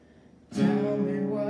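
Guitar strummed for a verse, quiet at first, then one firm chord rings out and sustains near the player.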